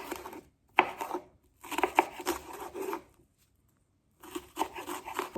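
A knife chops a jalapeño on a chopping board in three bursts of quick, close cutting strokes, with short quiet gaps between them.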